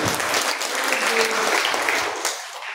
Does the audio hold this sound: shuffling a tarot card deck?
no